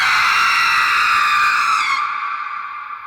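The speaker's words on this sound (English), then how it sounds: "a scream so sharp it shattered the silence" A loud, sustained high-pitched scream, shrill and close, holding steady before fading away near the end.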